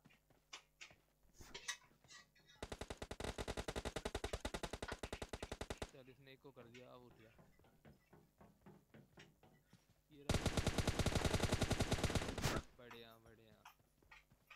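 Long automatic bursts of gunfire in PUBG Mobile, two sustained rapid volleys of several seconds each, loud and close, separated by scattered single shots and thumps while a player talks excitedly.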